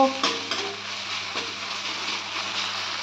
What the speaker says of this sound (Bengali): এবার এর মধ্যে আমি আদা জিরে বাটা দিয়ে দিলাম